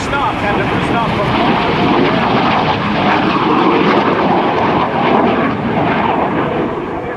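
An F-117 Nighthawk making a flyby at a military open house, its twin General Electric F404 turbofan engines at full power, a loud sustained roar that stays dense and steady from start to finish.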